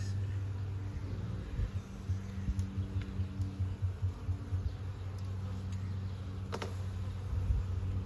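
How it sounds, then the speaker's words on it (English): A steady low hum of many honey bees buzzing close around a hive, continuous throughout, with a few faint clicks and rustles. "Wow, look at all those bees."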